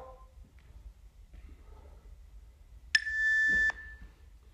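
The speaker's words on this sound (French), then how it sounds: "Jusqu'au bip, on n'arrête pas avant." A single sharp electronic workout timer beep sounds once, held for under a second, after a stretch of near silence with faint movement during a home exercise circuit.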